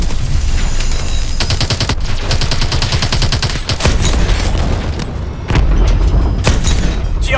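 Loud, dense gunfire and explosions fill a Call of Duty Advanced Warfare campaign battle: rapid bursts of automatic fire mixed with heavy booms, nearly continuous, with no talking.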